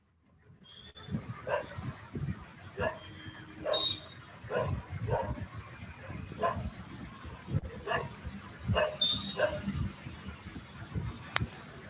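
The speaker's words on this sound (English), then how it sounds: "Somebody's dog is braying there." A dog barks repeatedly nearby in short irregular bursts, with some yips and whimpers mixed in, over faint room noise.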